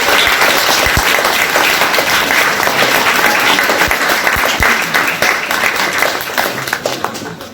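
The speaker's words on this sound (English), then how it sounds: "can we all just give like a massive round of applause to all the teachers here" A school graduation audience applauds its teachers with loud, sustained clapping from many hands, heavy at first and thinning a little near the end.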